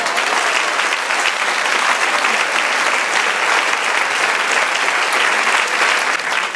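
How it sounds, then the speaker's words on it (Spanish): A church congregation breaks into dense, sustained applause, many hands clapping loudly and evenly for several seconds with no pause. "Dale un aplauso al Señor"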